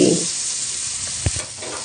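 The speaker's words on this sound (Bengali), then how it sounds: "ফোড়নটা ভাজা হয়ে আসলে ছোট ছোট টুকরো করে রাখা আলু দিয়ে দিয়েছি" Small diced potatoes hiss and crackle in hot white oil tempered with nigella seeds and asafoetida, a steady close sizzle with a brief stirring clatter partway through, and no talking.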